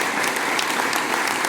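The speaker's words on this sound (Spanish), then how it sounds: "Un aplauso para Sosa." Dinner-party crowd applauding for the camp cook at a gathering celebrating a pilot's aircraft presentation, a dense, steady clapping wash at close to moderate distance with no voices standing out.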